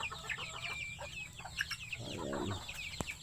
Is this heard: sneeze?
no